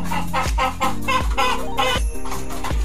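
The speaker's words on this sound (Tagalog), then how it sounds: "Yan yung panay tilaok ng tilaok." Fighting cocks crow and cluck close by in a quick run of loud calls, with rhythmic thumping behind them.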